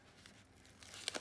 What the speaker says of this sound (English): Peel my sticker.